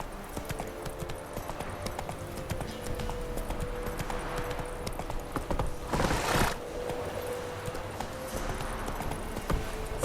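Roach the horse gallops in The Witcher III, steady clip-clopping hooves running through the whole stretch with a brief whooshing burst midway, close and fairly loud over game ambience.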